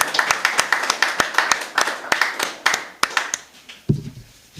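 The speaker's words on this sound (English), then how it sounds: "Let's give them a lusty round of applause." A small audience applauds a theatre collective at an evening talk, several people clapping in a loose, uneven patter up close, thinning out before a final thump.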